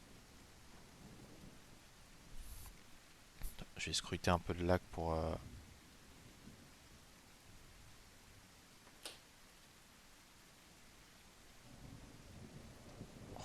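Steady rain in The Isle, a dinosaur survival game set in a prehistoric jungle beside a lake: a soft, constant hiss throughout, with someone speaking briefly over it.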